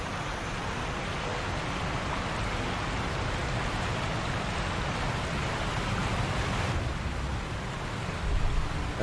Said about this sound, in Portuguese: Barulho do cascata é ensurdecedor.